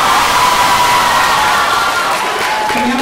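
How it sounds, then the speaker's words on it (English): A school talent show audience at the Clydebank High School 2016 finals cheers and whoops loudly, a continuous wash of crowd noise with shouting children and some applause throughout. "Can we have a cheer?"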